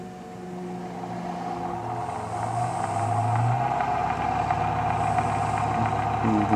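A Bedini motor wheel spins up after being switched on, making a steady mechanical hum and whir that grows a little louder and then holds even, with a faint high whine above it.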